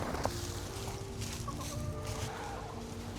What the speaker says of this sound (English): And multiple of my chickens are out right now.